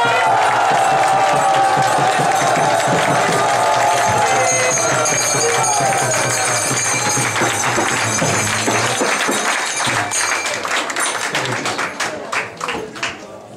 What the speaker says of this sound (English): Please give now a full applause.